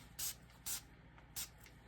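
Alcohol sprayed from a pump bottle onto a crushed glass craft piece on a candle stand, three short quiet hissing spritzes spaced unevenly over two seconds.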